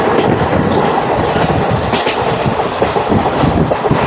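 An Agartala-Karimganj DEMU train runs on rails in Tripura, giving a loud, steady close-up rumble with rhythmic wheel clatter throughout and no talking.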